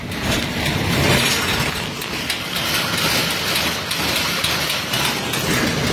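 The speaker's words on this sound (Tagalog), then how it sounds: "maandar yung makina, pakita mo" A mechanical diesel engine runs steadily up close, a dense, constant rumbling roar with no breaks and no talk over it.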